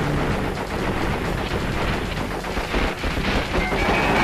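Enemies in Crash Bandicoot Warped fire continuous loud bursts of gunfire, rapid overlapping shots like a machine-gun barrage, with no talking.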